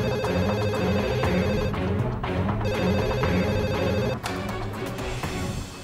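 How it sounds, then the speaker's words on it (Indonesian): A telephone rings through a dense, loud backdrop of music, its repeated ring pattern pulsing under the busy soundtrack, with a brief pause midway and no speech. "Coba telepon dulu deh."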